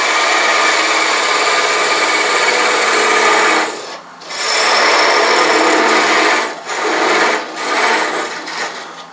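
A woodturning parting tool cuts into spinning wood on a lathe to set the width of a captive ring, a loud, steady close rasp broken by a few short pauses as the tool lifts away.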